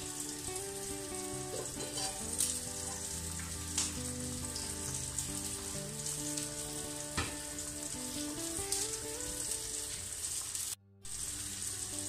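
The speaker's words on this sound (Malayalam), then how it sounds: "നല്ല പോലെ തിളച്ച് വെന്ത് വന്നിട്ടുണ്ട്" Kerala fish curry with coconut milk bubbling in a pot gives a steady close sizzle and crackle with scattered pops and faint clinks, cut off by a brief silence near the end, and no voices.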